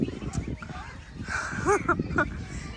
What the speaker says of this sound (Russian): Ну, Лабрадор. Лабрики, да. Лабрики, лабрики. собаки.